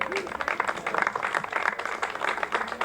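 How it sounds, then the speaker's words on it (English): Audience clapping at a Black and Brown unity rally, a steady spread of hand claps from a mid-sized crowd at moderate level, with some voices mixed in. "Let's have another round of applause for him"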